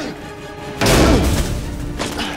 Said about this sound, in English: This is just all our hits. So anything that's just kind of a big impact.